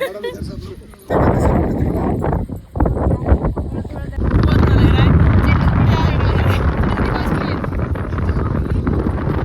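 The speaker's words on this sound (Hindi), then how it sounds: "बहुत हवा चल रहा है" Strong wind gusts roar against the microphone on the glass bridge at Rajgir, Bihar, a loud buffeting rush that swells and stays heavy, with voices talking over it.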